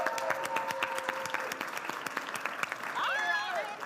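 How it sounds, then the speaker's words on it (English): Live show audience applauding voice actress Laura, a bright crackle of many claps sustained throughout, with a whistle and some cheering toward the end. "give a round of applause for Laura"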